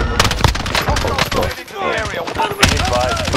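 Rapid close bursts of automatic rifle fire from a Cold War AUG in the video game Warzone, loud and repeated, with shouted voices over the shooting.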